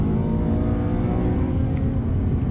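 Supercars race along the Isle of Man TT Mountain Course on public roads, with a steady loud engine drone and whir of cars chasing past close by, continuous throughout, with no talk.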